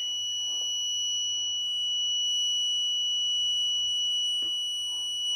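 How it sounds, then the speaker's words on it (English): Vehicle anti-theft alarm triggered after a wrong fingerprint is entered, a continuous faint electronic tone holding steady across the whole span with a few soft clicks and low background hum. "Alarm continuously on and I am getting the alert."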